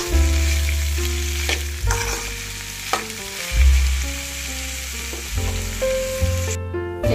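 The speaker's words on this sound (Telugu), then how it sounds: "ఇందులో దొండకాయ ముక్కలు వేసాను. ఇప్పుడు బాగా ఫ్రై చేసుకోవాలి." Ivy gourd pieces fry in a pan with a loud, close, steady sizzle, broken by occasional stirring scrapes; no one speaks.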